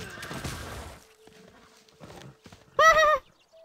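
A horse unit in the Civilization VI strategy game whinnies loudly near the end after soft hoof clip-clops, with a quiet game backdrop and a brief voice early on.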